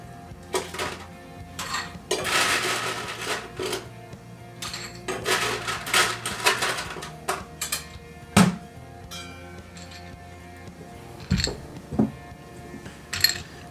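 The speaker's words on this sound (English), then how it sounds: "I'm going to add my ice. I'm going to go over to my ice machine" Ice cubes from an ice machine rattle and clink into a glass for an Old Fashioned cocktail, with scattered clatters, scoops and sharp knocks spread across the stretch, close and fairly clear.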